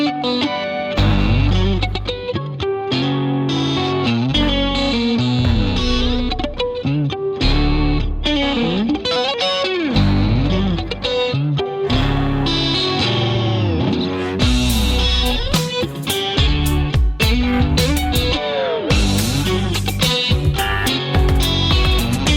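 An electric guitar played through the Archetype X amp-sim plugin rings out loud and alone, a distorted, chorus-washed tone shifting through chords and melodic runs for over twenty seconds without pause.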